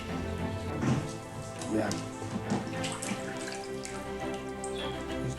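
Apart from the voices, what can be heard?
bananas being washed in clean water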